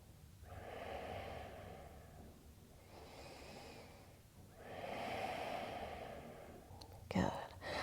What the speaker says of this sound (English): take 2 full breaths here